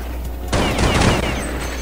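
A burst of rapid gunfire in Counter-Strike hostage mode erupts after a brief quiet moment, dense overlapping shots continuing loudly to the end with no talking.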